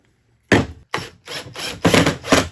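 A hand ratchet clicks in short bursts while driving screws with fender washers into the wooden base of a model railroad, five loud close strokes separated by brief pauses.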